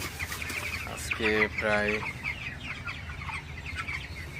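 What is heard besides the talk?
broiler chickens clucking in a farm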